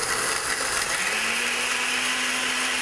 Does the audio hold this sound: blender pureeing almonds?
yes